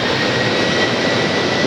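A jet airliner roars at Atlanta Hartsfield airport, a loud, steady engine rush with a thin whine, close and continuous with no voices.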